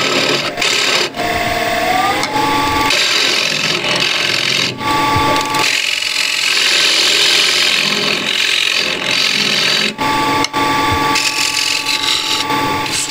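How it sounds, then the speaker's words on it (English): Scraper boring out a walnut wood ball on a lathe gives a loud, continuous rasping scrape against the spinning wood, with brief dips as the tool shifts. "I'm just going to bore this out with a scraper."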